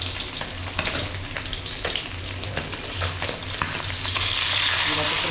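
Steady crackle of fish heads frying in oil, with soft clinks of stirring and a sizzle that grows louder toward the end; no voices.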